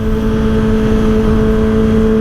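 A motorbike or car engine is revved hard at close range, holding a loud, sustained droning roar with steady tonal hum and no voices over it.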